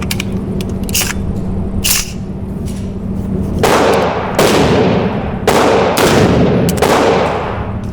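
Rifle shots at an outdoor shooting range from a newly built rifle, four loud, close reports with long ringing decay, spaced about a second apart after quieter distant pops.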